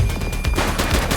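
Police opening fire on suspects in the video game The Precinct, a short, close burst of rapid gunshots in quick succession, loud and sharp with no talking.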